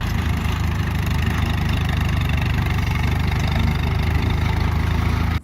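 A Farmall Regular tractor engine runs at a steady, rumbling idle, close and fairly loud, with an even low chug throughout before it cuts off abruptly at the end.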